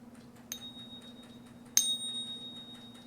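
Two light metallic taps on silver, each leaving a high, thin ring that lingers and fades slowly; quiet and close, over a faint background hum.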